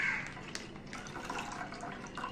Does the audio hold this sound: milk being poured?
yes